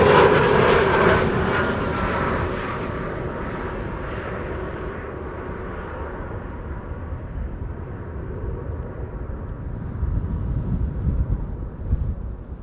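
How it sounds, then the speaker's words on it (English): A KLM Embraer 175 jet lands at Amsterdam Schiphol after arriving from Stavanger, heard as a loud, broad engine roar that is strongest at the start and then settles into a steady, slowly fading rumble, with a small swell near the end. "This is KLM flight 1174 arriving from Stavanger,"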